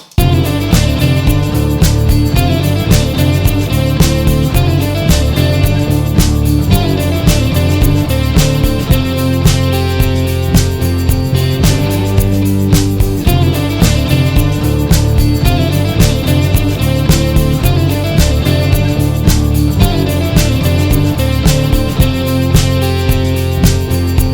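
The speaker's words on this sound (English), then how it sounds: "Really emphasizing on the slide guitar that's been recorded with the acoustic guitar" Steady strummed acoustic guitar plays a rhythmic pattern throughout, with a gliding slide guitar line sliding between notes on top, full and upfront.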